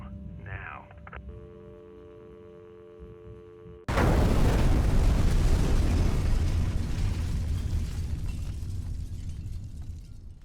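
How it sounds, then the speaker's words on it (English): An explosion rips through the corporate offices of a biotech company: a low tonal hum is cut off by a sudden, loud broadband blast that rolls into a sustained, roaring rumble. "An explosion has rocked the corporate offices of Senecam Biotech Corporation"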